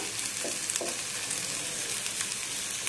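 Soft hog plums (amra) being stirred in a pan for a chutney, giving a steady close sizzle with a few light scraping taps of the spoon near the start, no talking.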